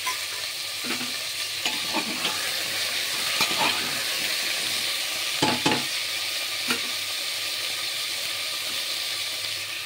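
Ginger paste with tomato and slit green chili frying in a pan while cooking pui shaak ghonto: a steady sizzle with occasional stirring scrapes and taps, close and moderately loud, with no talking.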